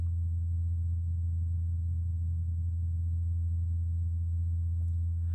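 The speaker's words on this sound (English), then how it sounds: "you can possibly also hear the hum of Ingenuity's blades spinning" The Ingenuity helicopter's spinning blades on Mars give a faint, steady low hum that holds unchanged throughout, with no voices.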